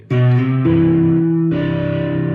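An electric guitar with a Greco humbucker plays long sustained notes through heavy fuzzy distortion, loud and buzzing, changing pitch twice over a few seconds and heard alone.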